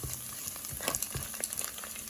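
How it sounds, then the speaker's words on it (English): Cumin seeds sizzle and fry in hot oil in a pan with turmeric, salt and dry ginger powder, a steady close crackling hiss with no talking. "The jeera is sizzling."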